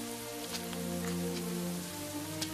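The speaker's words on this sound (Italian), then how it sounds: "Se solo smettesse di piovere. Non può piovere per sempre." Rain falls steadily in a scene from the film Il Corvo, a soft continuous patter over a surface with low sustained musical tones humming beneath it, and no voices.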